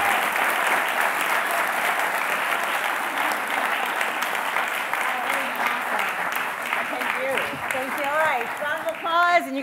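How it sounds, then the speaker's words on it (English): Loud, sustained applause from a crowd, steady clapping throughout with some voices and whistles rising near the end. "Can we have a round of applause"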